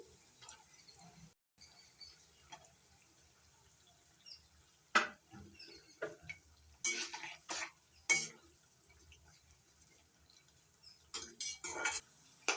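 A utensil stirs chopped turmeric in oil in a pan, with scattered scraping clinks and spoon taps against the metal between quiet pauses and faint background sounds.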